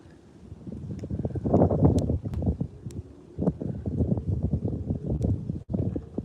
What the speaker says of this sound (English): Wind's getting terrible, folks. Terrible.